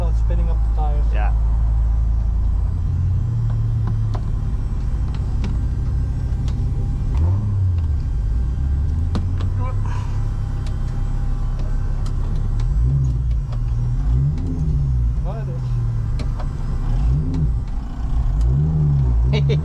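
A tuned Ford Focus with a turbocharged engine making 500 Nm, driven on the Nürburgring, rumbling and revving loudly from inside the cabin with rising and falling engine pitch as it accelerates, under steady conversation.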